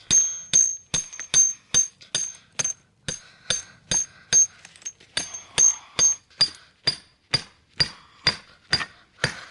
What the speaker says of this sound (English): I pound it all the way down to where the washer goes in the ground.